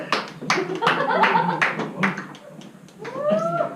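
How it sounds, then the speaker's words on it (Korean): Seminar audience in Busan clapping for a center director, a burst of sharp, close handclaps under a voice, with a second round rising near the end. "자 박수 한번 주세요"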